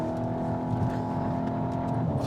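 The EA888 engine of a 2023 Skoda Karoq SUV drones steadily under acceleration, a smooth sustained hum heard from inside the cabin with a slight rise in pitch near the end.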